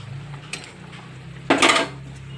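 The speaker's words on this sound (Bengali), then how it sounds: "তো ডিমটা দিয়ে দিলাম।" Boiled eggs dropped into a pan of simmering soybean curry, a soft clink of utensil against the pan, then a brief louder splash and sizzle over a low background hum.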